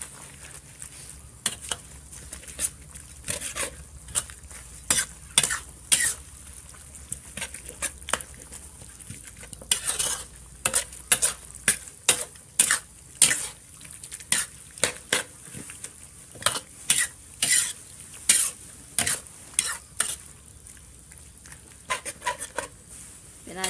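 Spicy eel being stir-fried in a pan with holy basil and kaffir lime leaves, heard as repeated scraping, crunching stirs and light sizzling in a steady irregular rhythm, close and fairly loud, with no voice over it.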